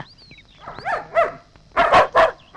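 A dog barks several times nearby, a couple of short yips followed by a louder burst of barks.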